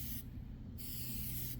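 A can of silicone aerosol spray is squirted onto a fabric cabin tent in two close, loud hissing bursts, the first about half a second long and the second starting just before the end.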